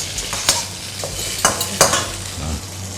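Tofu stir-roasts in a pan over gentle heat, with a steady soft sizzle broken by a few sharp scrapes and clinks of the spatula against the pan, close and fairly loud.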